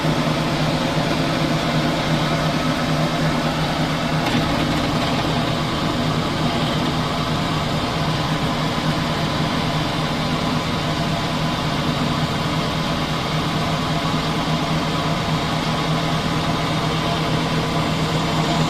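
Homemade lathe running and cutting chips, a steady loud motor hum with a constant tonal whine and no break, no speech.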